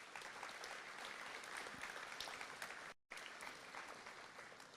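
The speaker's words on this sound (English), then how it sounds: "Please give our Foundation Board of Directors a round of applause." An audience at a hall of fame induction ceremony gives a round of applause for the Foundation Board of Directors; dense, sustained clapping fills the room, cut by a brief dropout near the middle before resuming.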